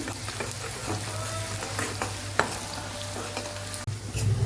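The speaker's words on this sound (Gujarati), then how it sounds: "બધું સરસ સતળાઈ જાય એટલે આપણે ડુંગળી ઉમેરી દઈશું" Onion frying in a pan for a tomato poha breakfast, a steady close sizzle with occasional spoon scrapes and a sharp knock near the end, no speech.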